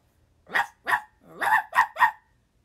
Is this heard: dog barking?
yes